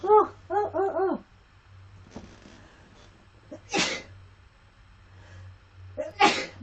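Two sharp, loud human sneezes burst out a few seconds apart, close by, after a brief bit of soft voiced sound at the start.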